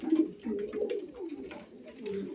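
A pigeon coos close by, a soft throaty rolling call repeated in short pulses with brief pauses between them.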